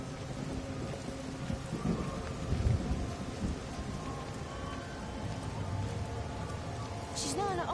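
Steady rain and rumbling thunder from a thunderstorm in the video game Everybody's Gone to the Rapture, with a continuous rain wash and a low rolling rumble throughout.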